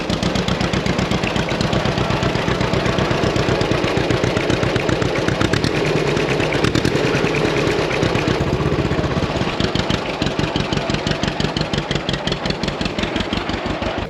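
Small engine idling steadily with a rapid, regular firing pulse, held close and loud throughout while its carburetor air screw is adjusted on a farm; no talking.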